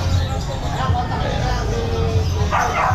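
A Shih Tzu gives short barks and yips at a busy pet market, partly buried under nearby people talking and general crowd chatter.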